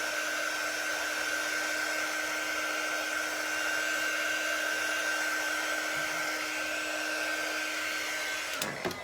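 A hair dryer blows steadily on fresh paint on a wooden easel, a constant loud whir with a steady tone that runs unbroken before cutting off abruptly at the end.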